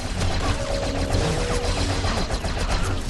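Enemy machine gun fire in Star Wars: The Force Unleashed, a dense continuous barrage of overlapping shots from several gunners at once, loud and steady throughout with no talking.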